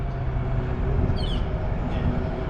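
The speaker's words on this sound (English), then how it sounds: "Train going into downtown over there." A light rail transit train rolls into downtown Calgary at a distance, a steady low rumble of wheels and motor sustained throughout with no talk over it.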